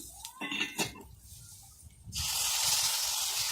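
Water poured onto hot frying masala with coriander powder in a pan for a fish curry, bursting into a loud, sustained hiss after a few soft clinks of utensils.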